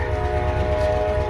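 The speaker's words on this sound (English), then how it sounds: "Hello, train. I knew you was gonna come when I started videoing." A passing train gives off a steady, loud horn-like tone with a low rumble beneath it, heard without talk for a brief moment.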